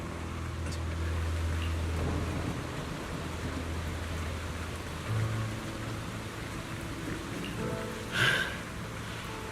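Steady rain falls in a Zenless Zone Zero game scene, a continuous soft wash of drops with a low hum beneath and a couple of brief louder swells near the end; no one speaks.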